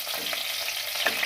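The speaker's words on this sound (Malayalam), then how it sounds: "ഇനി അതിലേക്കൊരു 3 പച്ചമുളക് കീറിയതിട്ട് കൊടുക്കാം" Three slit green chillies crackle in hot coconut oil for a Kerala fish curry, a steady close sizzle with a few brighter pops and no voices.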